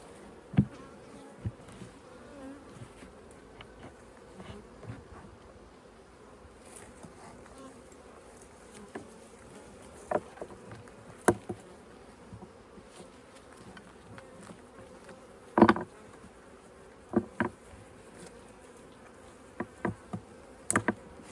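Honeybees buzz steadily around a hive during a check on queen acceptance while bees are being added, a soft continuous hum broken by occasional sharp knocks and clicks from nearby handling.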